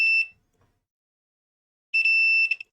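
A multimeter's continuity tester beeps while a monitor's button switch is tested during a hobby repair: a short high beep at the start, then silence, then a longer beep of about half a second that flickers slightly.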